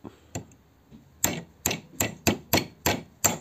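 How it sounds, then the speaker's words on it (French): A hammer taps a socket set over a pop rivet while fitting a dual-piston mechanical brake caliper on a Velobecane Snow e-bike, two light taps followed by a steady run of seven sharp metallic strikes, close and clear. "Vous prenez votre marteau"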